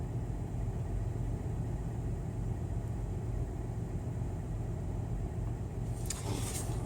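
A semi truck, apparently a Peterbilt 379 pulling a tanker trailer with Texas plates, rumbles past with a steady low engine drone that holds throughout, and a brief brighter hiss or air sound comes near the end.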